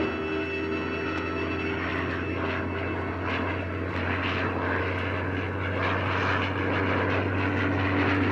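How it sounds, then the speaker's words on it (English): Propeller airplane approaching, a loud steady engine drone with throbbing low tones and rising, fluttering prop noise drawing nearer, no speech over it. "Sonny, the plane's due any minute."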